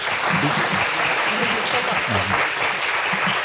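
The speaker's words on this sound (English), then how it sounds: "please join me giving a real big applause to Mr. Hartwell." An audience breaks into sustained, dense applause for a speaker after a speech at a politics lecture event, with some talking mixed into the clapping throughout.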